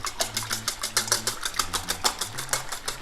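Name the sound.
whisking five eggs for Spanish omelette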